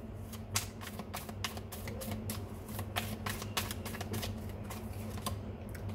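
Tarot cards being shuffled and drawn: a steady run of crisp, papery slaps and flicks in quick irregular bursts, close and fairly loud over a low background hum, with no talk.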